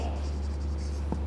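Chalk or marker scratches steadily across a classroom board as a teacher writes out a date, producing a close, continuous scraping over a low background hum.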